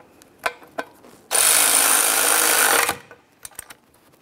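On an Acura MDX 3.7L V6, a power tool whirs loudly and steadily for about a second and a half while running down the rear valve cover mounting bolts, with a few sharp metallic clicks from the tool and bolts before and after.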